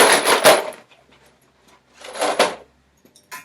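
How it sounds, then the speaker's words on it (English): Metal nuts and bolts shaken inside a plastic milk bottle give two loud rattling bursts, a quieter pause with light clinks between them, and a short final shake, all close up. "I've also put those nuts and bolts, the same nuts and bolts now, into this plastic milk bottle"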